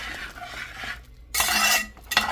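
A spoon stirs chicken stew seasoned with black pepper in a pot, soft scraping and sloshing with a brief quiet gap, then a louder burst of stirring and light clinks near the end.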